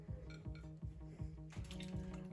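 Cold tap water, about twelve cups, runs into a cooking pot for chops, a steady gurgling stream with rhythmic sloshing pulses that grows brighter and splashier as the pot fills, close by and with no voices.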